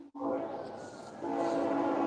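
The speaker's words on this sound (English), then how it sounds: "Is a train in your background?" A train rumbling past with a sustained horn blast in the background, steady and moderately loud for about two seconds, with no talk over it.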